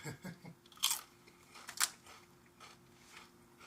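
Doritos tortilla chips crunched while eating, two loud sharp crunching bites close to the mic, with softer chewing between them.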